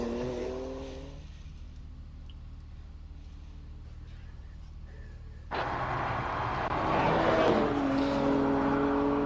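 A BMW race car at a hillclimb event, its engine droning at a distance at first, then surging loud and close as it accelerates hard up the track, revving high over crowd and ambient noise.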